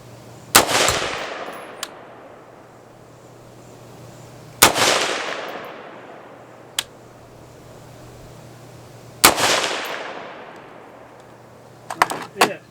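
A Hondo rifle fires a three-shot group at a bullseye target, each sharp loud crack decaying over a few seconds with long pauses between shots, followed by faint clicks and handling noises.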